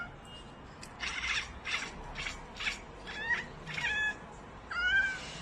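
Several cats trade repeated meows and squawky chirps back and forth in a quick series of close, fairly loud calls, with no talking.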